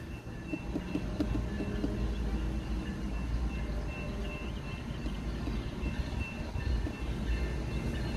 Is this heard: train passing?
yes